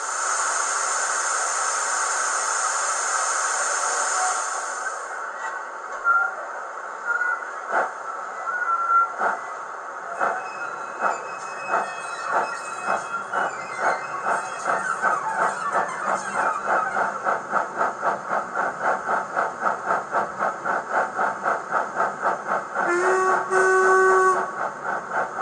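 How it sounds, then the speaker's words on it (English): DCC sound-fitted 0 gauge Black 5 model steam locomotive running at low speed with flange squeal on: a hiss gives way to a steady rhythmic chuffing and high metallic squeals, close and alone. "let's put the flange squeal on and speed step 9"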